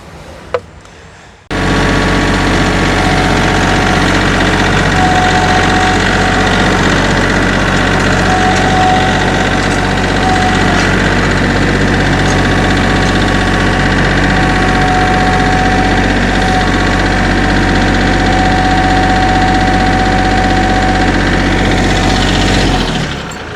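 A tractor engine runs steadily near a junk boat while being repositioned, a loud, low, throbbing idle that starts abruptly after a brief quiet moment and continues evenly to the end with no speech.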